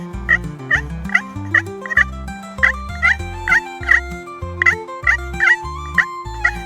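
A slate turkey call used for fall turkey hunting imitates hen yelps in a steady, evenly spaced series of about a dozen short, raspy yelps over a sustained tonal backing.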